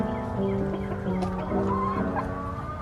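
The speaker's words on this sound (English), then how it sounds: "need to show you guys this little chicken." A chicken clucks close by in a string of short, throaty calls, with faint background noise.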